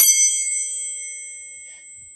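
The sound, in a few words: tuning fork vibrating and ringing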